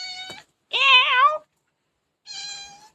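A cat meows repeatedly, three distinct cries with pauses between them, the middle one louder and more drawn out, close to the microphone.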